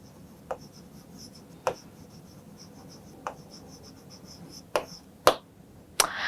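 Chalk or marker strokes on a board during a biology class lesson: a few sharp, separate scratches and taps, close by, spaced irregularly over a quiet room hum.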